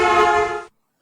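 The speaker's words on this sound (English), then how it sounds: "The horn to you might sound something like this." A car horn sounds as a bright, buzzy tone rich in harmonics and holds for about two-thirds of a second before cutting off abruptly into silence.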